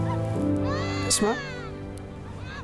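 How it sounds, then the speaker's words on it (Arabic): A newborn baby cries with a high, wavering wail in a clinic at a refugee camp, heard over continuous hum and a voice talking throughout. "هذا صوت بيبي"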